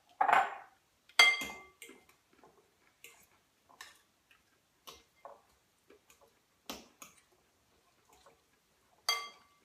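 Spoon stirring sheep's-milk yogurt into a sauce in a pan, a sparse series of light clinks and taps against the pan with quiet gaps between them.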